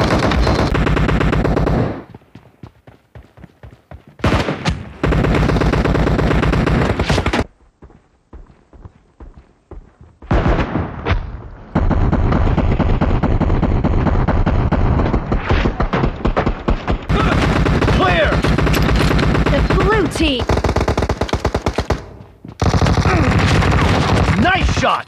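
Bursts of automatic gunfire in PUBG Mobile, loud rapid volleys broken by short pauses, with game announcer voice lines between shots.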